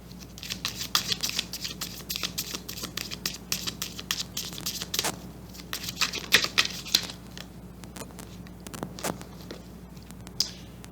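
Romance angel oracle cards being shuffled, a rapid run of crisp papery flicks and riffling clicks in uneven bursts, close and fairly loud with no talking.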